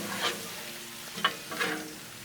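Shrimp frying on a Blackstone griddle, with a soft steady sizzle and a few quick scraping stirs of a spatula, heard close but fairly quiet and alone.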